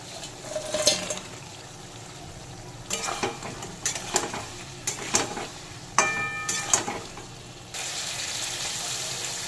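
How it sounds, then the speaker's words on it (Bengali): Fried masoor dal fritters dropped into a simmering potato curry, with a few spoon stirs and clatters against the pot over a steady bubbling hiss that swells near the end; close and fairly loud, no voices. "এবার দিয়ে দেব ভেজে রাখা বড়াগুলো।"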